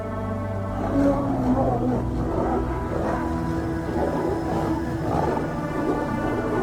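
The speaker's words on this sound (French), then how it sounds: "Il rugit férocement, entaillant le visage d'un solati avec ses griffes." A lion roaring fiercely in a fight in the African savanna, deep rumbling roars that rise and fall in repeated pulses and stay loud throughout, heard alone.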